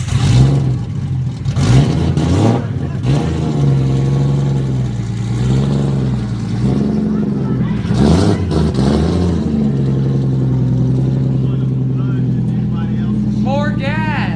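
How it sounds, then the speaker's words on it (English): A car engine held at high revs during a burnout, a loud, close, sustained roar that rises and dips in pitch, with voices shouting over it at moments. "I remember my first burnout."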